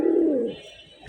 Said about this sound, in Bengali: এক পেয়ার সিলভার কবুতর।